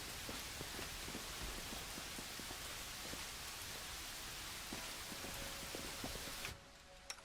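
Steady rain falls in the fantasy role-playing game Pathfinder: Wrath of the Righteous, a dense, even hiss with scattered drop ticks that continues alone before dropping off sharply near the end.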